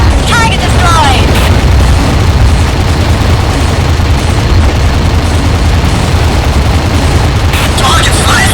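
Heavy, continuous explosions and rapid weapon fire as a target is destroyed in the underwater combat game Aquanox, loud, dense booming and crackling with no pause, while a voice speaks over the din.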